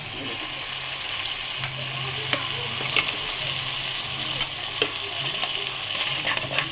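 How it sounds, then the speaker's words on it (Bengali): Shrimp paste fries in a pan, a steady close sizzle broken by sharp clicks of stirring, while a person talks faintly over it. "এবার এই পেস্টটা এর মধ্যে দিয়ে দেবো।"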